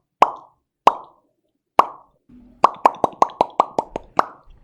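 A series of sharp, hollow pops, three spaced out at first, then a rapid run of eight more in quick succession, loud and close.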